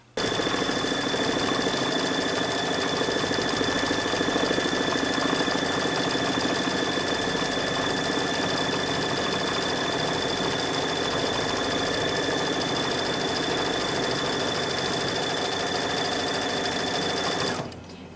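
An embroidery sewing machine runs a tack down stitch on a fabric mug rug, a fast, even mechanical rattle with a steady whine, close and loud, stopping at the end.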